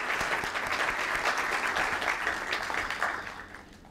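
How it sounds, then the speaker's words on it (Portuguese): Audience at a Brazilian law congress giving a round of applause, a dense, even wash of clapping from many hands in a hall that holds steady and then fades out at the end. "Uma salva de palmas para a Regency também."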